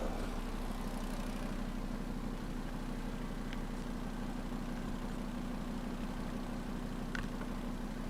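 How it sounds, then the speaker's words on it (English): A high-mileage VW Passat idles with a suspected exhaust leak, a steady low engine drone with a constant rumble and faint ticking texture, holding evenly throughout with no talk. "It sounds like an exhaust leak."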